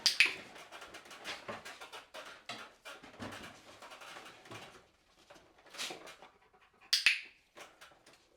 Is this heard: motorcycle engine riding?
no